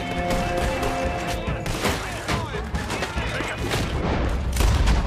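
Gunfire during a bank heist shootout in Red Dead Redemption 2, with a sniper rifle among dense, overlapping shots and booms in a loud, continuous firefight.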